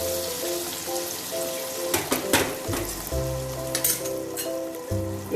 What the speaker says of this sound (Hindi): अब ये तड़का भी तैयार हो गया है। इसको हम दाल ढोकली के ऊपर डाल देंगे।